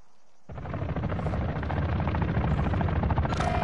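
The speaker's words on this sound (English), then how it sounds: "Cargo helo inbound." A cargo helicopter in a video game swells in after a near-silent start, its dense rotor roar building steadily louder with rumbling battle noise underneath and no voices.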